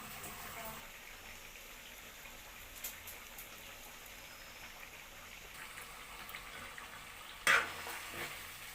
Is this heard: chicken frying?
yes